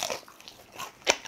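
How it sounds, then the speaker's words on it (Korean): Sharp crunching bites into crispy fried hogfish gangjeong glazed in an oyster-sauce seasoning, a few close crackly chomps with one loud crunch near the end. "자 강정 먹어볼게요"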